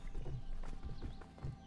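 Horses' hooves clip-clopping in the video game A Way Out, a few uneven hoof strikes at moderate distance over a low ambient bed, with no talk.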